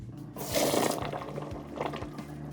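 Cooked pasta being drained from the pot into a sink, a steady rush of pouring water swelling then settling into a softer continuous splash and trickle, close and alone.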